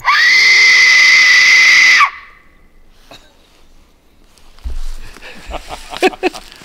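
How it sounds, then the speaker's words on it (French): An Aztec death whistle is blown outdoors near a forest, letting out one loud, piercing, scream-like shriek that lasts about two seconds and then cuts off, followed by quiet with faint rustling and a few thumps. "je viens de tester mon sifflet aztèque, j'adore cet objet"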